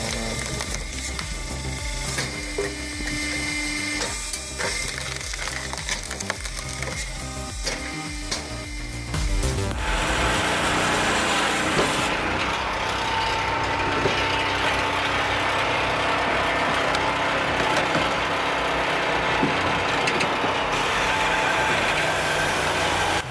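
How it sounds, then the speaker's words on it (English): A firewood processing machine splits hardwood logs with a steady loud mechanical drone and engine hum, with clanking and whirring early on, then a denser continuous roar of machinery. "the wood splits, fibers tear, but the effort has shifted from muscle to machinery"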